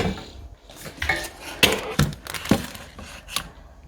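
A pot of boiling lamb is set back onto a stove, giving several clanking metallic knocks and scrapes of cookware, close and fairly quiet.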